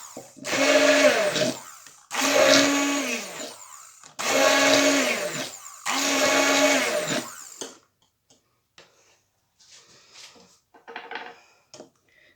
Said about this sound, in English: give it a quick blast with the blender on low